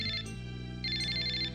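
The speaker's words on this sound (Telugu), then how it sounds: "ఫోన్ వచ్చింది." A car phone ringing indoors, a short electronic ringtone with two bright warbling bursts separated by a brief gap, close and clear with no talk.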